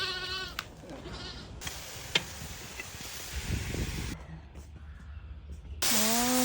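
A black lamb bleats close by in a few short calls, with a louder bleat near the end. Soft background hiss and faint rustling fill the gaps between calls.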